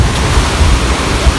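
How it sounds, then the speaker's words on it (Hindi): Loud rushing water at night roars as a dense, constant broadband wash that dominates everything, with no voices cutting through. "पानी की शोर से हमारी आवाज नहीं आ रही होगी"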